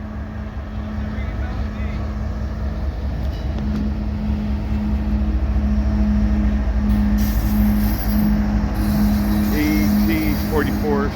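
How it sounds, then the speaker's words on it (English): A freight train carrying aircraft mover cars rolls past on the St. Joseph subdivision in a loud, continuous rumble with a steady drone. High metallic squeals come in near the end, with talk over the passing. "this is a train going down the St. Joseph sub"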